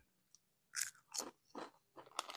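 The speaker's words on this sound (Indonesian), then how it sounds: "ini punya rambak buatan sendiri kalau ini rasanya hmm kriuk-kriuk mantap" Close, loud crunching bites of homemade rambak crackers (cow-skin crackers) served with meatball soup, four crisp bursts in a steady chewing rhythm, with no talking.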